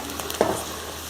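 Ingredients for paruppu urundai kuzhambu sautéing in a pan, a soft, steady sizzle with a brief stir or scrape near the middle, close and quiet with no talk.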